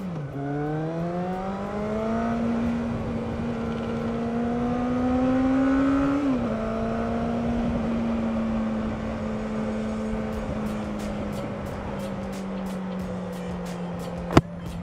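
A 2009 Suzuki GSX650F motorcycle with an end-can exhaust hums along at a steady engine note that rises and dips slightly as revs change, with light ticking clicks toward the end and a sharp knock near the close.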